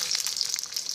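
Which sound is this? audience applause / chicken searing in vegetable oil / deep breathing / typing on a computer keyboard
chicken searing in vegetable oil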